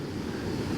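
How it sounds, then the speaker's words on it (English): Rushing water from the waterfall at the Old Forge Dam near the covered bridge in Old Forge, New York, a steady broadband roar with no pauses that stays at an even level throughout. "Oh yes, it's the Old Forge Dam."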